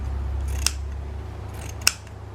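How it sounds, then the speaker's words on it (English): Scissors cut through a folded piece of fabric for a hard journal cover, giving two crisp separate snips about a second apart against a low background hum. "So I'm just going to fold it to keep it more or less straight and then cut it."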